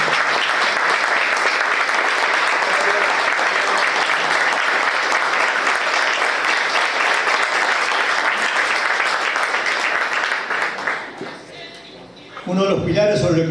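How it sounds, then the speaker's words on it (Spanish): A hall audience applauds steadily and loudly for a member of Los Olimareños at a residents' club talk in Treinta y Tres, Uruguay. The dense clapping runs for about eleven seconds before dropping away as a voice begins. "pido un aplauso para él"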